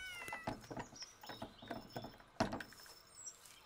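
A cat meows repeatedly in the painterly adventure video game Dordogne, a string of short, soft mews in quick irregular succession with one sharper cry midway, fairly quiet.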